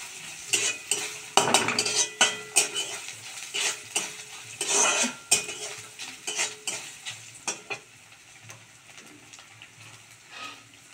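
Grated coconut frying in a pan for a Bengali dal made with katla fish head: a steady close sizzle broken by repeated scraping and clinking of a spatula stirring against the pan, with no talking.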